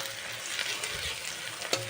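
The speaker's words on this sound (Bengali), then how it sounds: "পেঁয়াজগুলো আমার ভাজা হয়ে এসছে" Onions frying in oil for a mutton curry, a steady close sizzle with faint stirring scrapes and a brief clink near the end, no voices.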